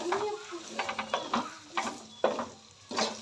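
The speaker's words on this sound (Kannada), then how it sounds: "ಉರಿಯನ್ನು ಕಡಿಮೆ ಇದರಲ್ಲಿ ಇಟ್ಕೊಂಡು ನಾವು ಕೈ ಆಡಿಸ್ಕೋಬೇಕು" Pasta being stirred in a pan over a low flame, with soft scraping strokes and a light sizzle coming in irregular bursts, close by and fairly quiet.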